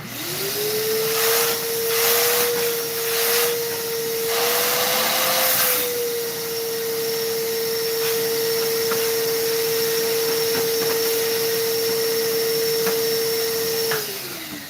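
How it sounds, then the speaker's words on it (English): A vacuum cleaner runs steadily close by as it cleans a woodturner's face shield, a loud sustained whine with a slight pitch wobble early on, cutting off near the end. "Let me just vacuum off my face shield."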